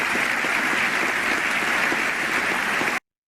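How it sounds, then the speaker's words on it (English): A large audience claps in a dense, even roar of applause that stays loud and sustained for about three seconds before it cuts off abruptly. "Keep clapping."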